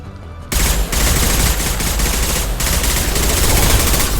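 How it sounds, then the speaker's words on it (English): Dense, sustained gunfire from Mass Effect 2 bursts in after half a second of near silence and stays loud and continuous to the end, with no voices over it. "firing a high-impact shot"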